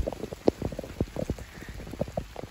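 Rain falls on a Zone 6 permaculture food forest garden planted with rugosa roses and garlic chives in June, giving an irregular close patter of drops landing on leaves and surfaces over a steady soft hiss.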